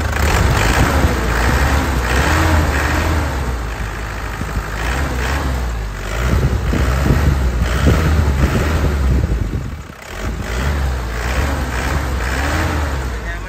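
A 2003 Isuzu Panther diesel engine runs loud and close, revving up and down in steady surges with a brief dip near the end, its rough knocking idle under each rise. No voices.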